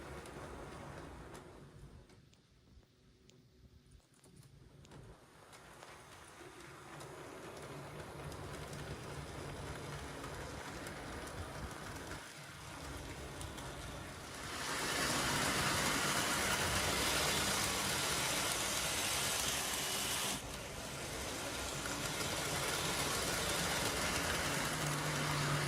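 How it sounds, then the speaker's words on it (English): Model railway box vans roll over curved Setrack points in a continuous rattling rumble that grows louder midway, close and steady with no voices. "the box vans behaved themselves impeccably and crossed the point perfectly every time"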